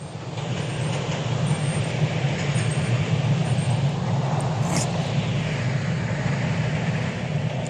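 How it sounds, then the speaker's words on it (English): A passing train gives a sustained low rumble and roar at fairly even loudness for several seconds, heard fairly close with a brief higher squeal partway through and no talking. "It's a train."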